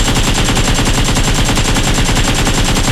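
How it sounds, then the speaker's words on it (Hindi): Continuous rapid automatic gunfire in PUBG BGMI, a dense loud burst of shots packed tightly together, close and unbroken with no voices. "मैं इसका दोनों तरफ गोली चला रहा था"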